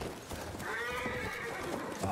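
In the World War I shooter Battlefield 1, a horse gives a loud, wavering whinny in the middle of the moment, over a rumbling battlefield background and faint hoof noise.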